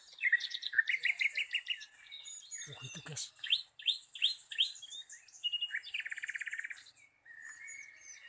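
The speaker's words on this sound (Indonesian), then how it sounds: "Masih banyak kicau-kicau burung guys ini guys." Several wild birds near Selomangleng cave chirp and trill in quick, repeated bursts, fairly close and clear. Someone briefly speaks partway through, and faint insect buzz sits underneath.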